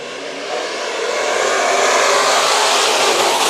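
Dirt-track race cars roar together at the start of the fourth and final eight-lap heat race at Bakersfield Speedway. The engines swell into a loud, continuous, broadband roar over a few seconds.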